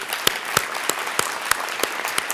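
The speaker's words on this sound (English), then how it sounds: "Let's just give them a great applause." Conference audience applauding after thanks to foundation program managers and staff at a scientific Python gathering, with a steady spread of clapping punctuated by several louder, sharper claps at a regular pace.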